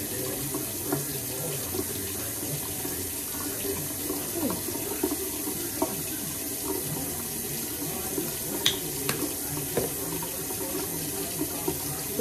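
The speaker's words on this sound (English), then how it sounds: "So I'm gonna go ahead and wash my face with this." Water runs steadily from a bathroom sink tap while someone washes their face, a continuous close splashing rush with small splatters and bumps throughout.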